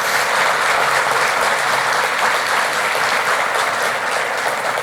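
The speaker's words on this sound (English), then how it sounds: "Please give them an outstanding applause." An audience at a city State of the City address in Davenport claps in sustained, dense applause, loud and even throughout, with no voices over it.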